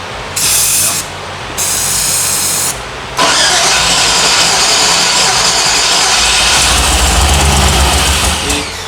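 A junkyard engine in a Jeep prerunner cranks in short bursts, stalls twice, then catches and keeps running loud and rough at close range.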